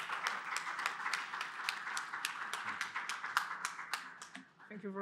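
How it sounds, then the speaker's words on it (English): A workshop audience gives the Minister faint, distant applause, a sparse run of separate claps that tails off as someone starts speaking near the end. "Could we give the Minister a round of applause?"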